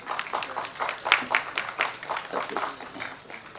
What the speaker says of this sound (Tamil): இன்னும் கூட பலமான கைத்தட்டல் இருக்கலாம்.